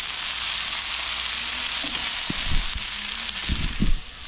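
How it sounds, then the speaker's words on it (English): Food sizzles in a hot pan with a steady, bright hiss, joined near the end by a few soft clinks and scrapes. "So you can hear the sizzle."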